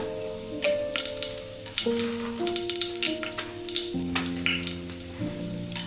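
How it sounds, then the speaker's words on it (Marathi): Whole garam masala and bay leaf dropped into hot oil for tempering, a loud continuous sizzle and crackle with sharp spatters, alongside a steady tonal hum in the background. "आता आपलं तेल गरम झालेलं आहे, आपण त्याच्यामध्ये फोडणी करूया।"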